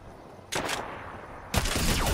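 Gunfire in a Fortnite match, a quick burst of shots, then a second longer volley that rolls on, close and loud over quiet background.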